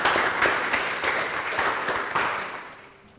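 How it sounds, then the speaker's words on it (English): A room claps in appreciation at a school placement meeting. The applause is fairly loud and even, then tapers off toward the end. "She deserves a good round of applause."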